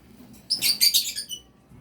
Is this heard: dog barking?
no